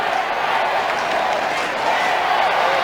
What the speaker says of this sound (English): Dennis mentioned the crowd had built up. Well, they're certainly loud at the moment.